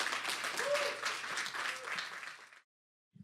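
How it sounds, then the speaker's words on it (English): An audience applauds a guest speaker at a talk event, a dense steady round of clapping that carries for about two and a half seconds, then cuts off abruptly into silence. "Let's give her a big round of applause, everybody."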